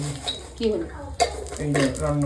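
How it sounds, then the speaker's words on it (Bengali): A spoon scrapes and clinks against a pan while potatoes and onions cook, with a few sharp metallic knocks among the stirring and a voice talking over much of it. "আমি চামচ দিয়ে রান্না করছি"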